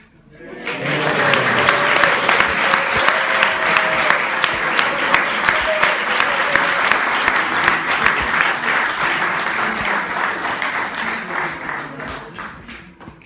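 Sustained audience applause after a children's skit at a shibir gathering, a dense steady wash of clapping that swells quickly, holds for several seconds and slowly tapers, with faint voices mixed in.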